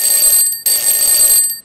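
A time-up alarm in a coding presentation contest buzzes loudly in two close bursts with a brief break between them, bright and insistent.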